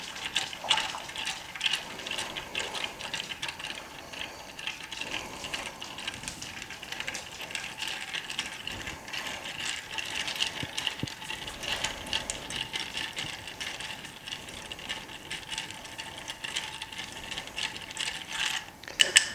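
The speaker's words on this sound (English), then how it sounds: "I wouldn't stir it for any less than about 20 seconds just to get some of that ice to melt in there and dilute those ingredients" Ice rattles and clicks against a mixing glass as a bourbon cocktail is stirred, a continuous close scraping, ticking churn that keeps up for about twenty seconds and ends in a few sharper knocks.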